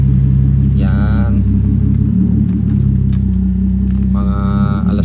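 A family car driving along a road in La Union, with a steady low engine and tire rumble inside the cabin and a rising whine at two points, under occasional talk.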